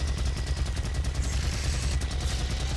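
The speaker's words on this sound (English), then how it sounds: "Gatling gun." A Gatling gun firing in the video game DOOM: a steady, continuous roar of rapid-fire shots, loud and close, running unbroken with no voices.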